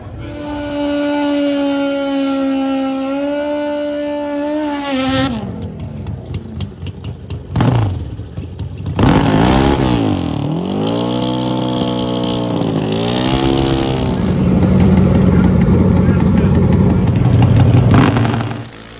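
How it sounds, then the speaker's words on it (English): Pro Stock drag racing motorcycles in an NHRA final round idle and then rev hard, their engines droning loudly and continuously with rising and falling pitch sweeps. "A Pro Stock Motorcycle"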